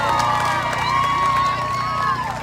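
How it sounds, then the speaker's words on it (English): A crowd cheers and applauds for a student speaker, sustained whoops and shouts over scattered clapping, with voices calling out across the noise. "Give Carmela another round of applause"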